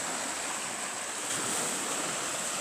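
Ocean surf washes steadily near a cabin, a broad, continuous roar of breaking waves with no pauses and no voices.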